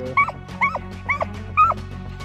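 Coonhounds on a night coon hunt near Chester, South Carolina, giving four evenly spaced bawling barks at a steady rhythm. They sound moderately distant over a low background hum.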